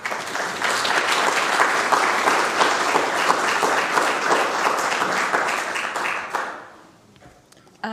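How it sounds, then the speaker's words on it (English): An audience at a keynote talk applauds warmly in a sustained burst of clapping that holds steady, then tapers off and fades to near silence over the final second or so. "a welcome round of applause"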